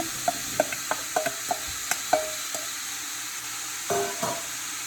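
Potatoes and ham stirred in a pot of split pea soup, making a run of sharp, close scraping clacks of a spoon against the pot at an uneven rhythm over a soft background hiss, with no talking.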